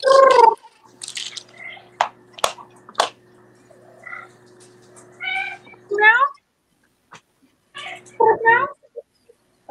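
A cat meows several times in separate drawn-out calls, close and clear, with quiet gaps and small rustling sounds between them.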